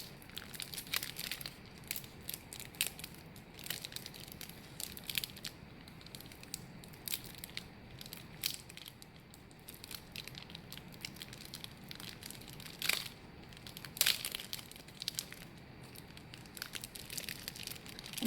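A small plastic bag of air dry clay is pulled open by hand, giving close, quiet crinkling and crackling with a few sharper snaps, and no talking.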